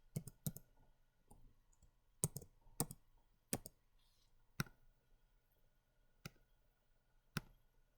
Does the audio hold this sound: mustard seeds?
no